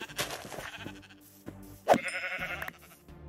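Sheep bleating in a video game, a single wavering bleat rising mid-clip over steady game background sounds and faint music, fairly close and clear.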